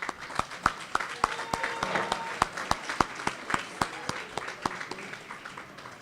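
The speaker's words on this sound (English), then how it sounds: "a big round of applause for how much you've supported them" Audience at a medical school Match Day celebration for the College of Osteopathic Medicine applauding, with sharp individual claps standing out over a steady wash of clapping from a large crowd, close and lively throughout.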